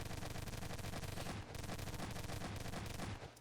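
Rapid turret gunfire from a video game build, dense continuous bursts of shots with a brief dip midway, loud and close with no talking.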